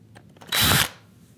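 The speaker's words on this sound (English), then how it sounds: "press it nice and firm against the surface and just let the drill float" A hand drill bores a hole through a workpiece while a router plane is built from a kit, one short burst of whirring for about a third of a second, close and loud, after faint preliminary scraping.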